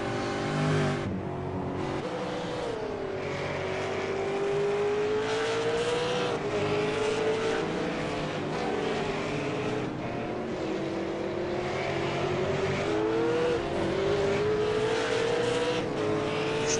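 V8 race cars in an online V8 racing series at Twin Ring Motegi roar continuously in a dense pack, engine pitches rising and falling through gear changes, loud and unbroken throughout.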